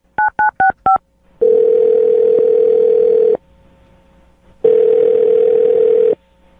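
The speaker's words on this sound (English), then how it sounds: "I'm going to dial her phone number right now and get her on the phone" Telephone dialing: four quick keypad tones, then two long steady ringback tones separated by a short pause, loud and clear with no talk.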